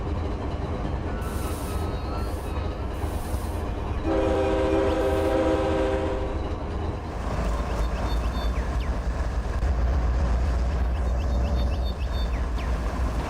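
Trains rolling through a Trainz railroad simulator (TRS19) game scene, with a loud sustained horn blast partway through over steady rumbling wheel and engine noise.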